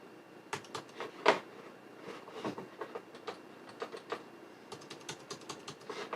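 Keys on an unresponsive computer keyboard click in irregular bursts, quiet and close, with one sharper clack early on and scattered taps after, no talking.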